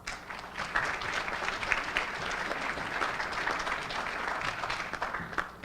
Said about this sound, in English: let's give a round of applause to all of our speakers, all the candidates today